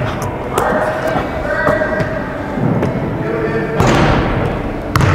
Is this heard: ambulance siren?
no